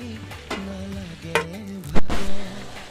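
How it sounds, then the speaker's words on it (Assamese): Broiler chicken meat fries in a pan over a low flame, with a soft sizzle under sharp stirring scrapes and clatters that grow louder toward the end. "ল' ফ্লেমত ভাজিছা।"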